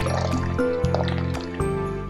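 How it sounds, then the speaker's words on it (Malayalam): Malabar tamarind water is poured into a bowl of spice paste with shallots, salt, turmeric and chili powder, making a short run of bubbly, gurgling liquid sounds with a faint steady hum underneath. "കുടംപുളി വെള്ളം കുറച്ചൊഴിക്കാം."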